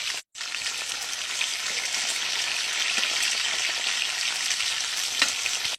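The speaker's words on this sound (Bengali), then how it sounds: "এবার হালকা একটু আমরা ভেজে নেব এটা।" Steady, loud sizzling and crackling of food frying in hot oil, continuous throughout with no voices.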